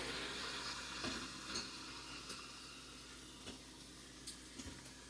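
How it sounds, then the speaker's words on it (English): Vegetables sauté in olive oil inside an Instant Pot, giving a soft, faint, steady hiss with a few light clicks and taps as they are turned over. "So we may start to saute them."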